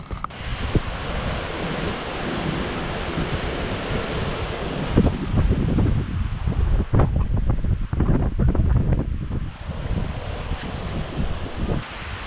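Wind buffets the microphone over steady surf at a seaside beach in Pourville, Normandy, on New Year's Day; a broad, continuous roar with gusty bursts and rolling waves, loud and close, with no talk.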